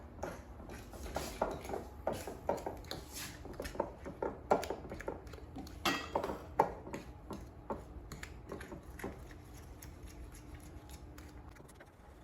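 Spoon stirring flour and salt together in a bowl for chocolate chip cookie dough, quick irregular scraping and tapping strokes, close and fairly quiet, slowing toward the end, with no talking.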